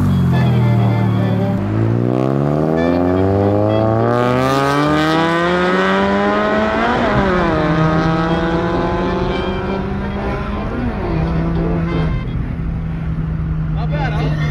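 A supercharged car accelerates hard from the inside, its engine note climbing steeply through several gear shifts before easing off to a steady cruise, loud and close throughout.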